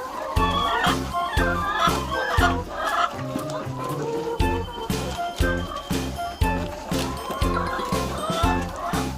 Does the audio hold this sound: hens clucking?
yes